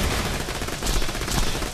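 Rapid bursts of gunfire from a Borderlands 2 shootout, loud and continuous with dense overlapping shots filling the whole moment, a faint voice barely present beneath.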